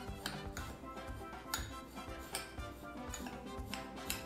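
Faint clinks and light scrapes of a utensil against a bowl as a spice mixture, panko and coconut are stirred together into a coating for Caribbean fish, in an irregular, quiet rhythm.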